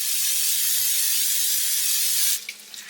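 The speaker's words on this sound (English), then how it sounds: "I'm going to spray the top of these salmon patties with a little bit of this cooking spray" Cooking spray hisses from a can onto the tops of salmon patties before air frying. A loud, continuous spray runs for just over two seconds, followed by a few soft clicks.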